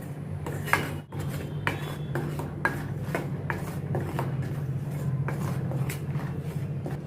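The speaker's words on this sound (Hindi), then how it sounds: "इन मसालों को अच्छी तरह से ये तेल में ऑयल में भूनने का," Spices roasting in oil in a pan, a steady low sizzle with repeated scraping and clinks of a utensil against the metal, close and continuous without any talking.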